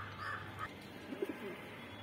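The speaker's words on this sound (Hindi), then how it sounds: "गुलाबी चोंच का बहुत बढ़िया कबूतर है" A pink-beaked pigeon at a bird market gives faint, brief coos over a low background hum. The coos are soft and short within a two-second stretch.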